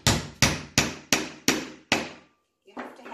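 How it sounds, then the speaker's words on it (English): Six loud, evenly spaced hammer blows drive big push pins into a surface, each a sharp ringing strike, followed by a pause and a faint knock at the end. "And these big push pins, you really have to hammer in. Sorry about the noise."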